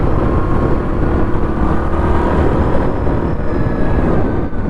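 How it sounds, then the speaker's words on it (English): A Yamaha Kodiak 700 ATV with a clutch mod and heavy clutch weights drives down a road, its engine a loud, close, steady drone with wind rush and no pauses. "We'll buzz it down the road and see what the top speed is."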